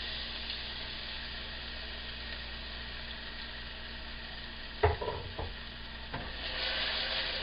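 Curry leaves hit hot oil in a pan while cooking pongal, with a steady low sizzle, a few sharp crackles and stirring knocks midway, and the frying swelling again near the end.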